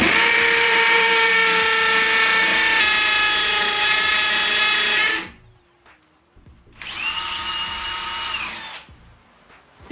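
A Bosch GSB 18V-150C cordless hammer drill bores with a 5/16 bit in a loud, high whine that steps up in speed. It stops briefly, then runs again in a second burst before cutting off.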